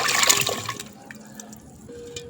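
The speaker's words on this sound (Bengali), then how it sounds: "এখন আমি একটু ধুয়ে সিদ্ধ।" Small cut potato pieces are rinsed in water, a brief close splash and slosh at first that fades into quieter trickles and drips.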